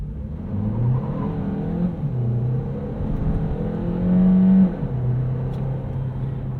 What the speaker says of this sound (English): we are in EV mode, so we'll be able to see how this electric motor performs by itself